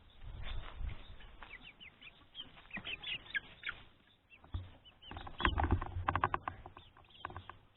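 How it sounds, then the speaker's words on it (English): Baby chickens cheep and peep inside a box at home, scattered close chirps mixed with rustling and handling noises, rising and falling in bursts. "our baby chickens right now are in that box"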